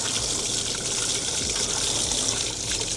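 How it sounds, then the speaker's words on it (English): Water gushes steadily from a garden hose, rinsing out a robotic pool cleaner; a continuous close splashing rush that holds level throughout with no talk. "I might get a hose and rinse this out."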